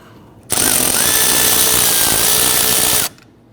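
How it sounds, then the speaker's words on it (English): Loosening a hose clamp on the air intake tube of a 2011-2015 Kia Sorento 2.4L, heard as one steady whirring tool burst of about two and a half seconds, loud and close, with no talk. "Want to loosen this clamp."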